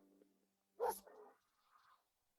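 A mechanical robot dog gives a single loud, close bark-like burst, followed by a softer trailing whine, with quiet surroundings before and after.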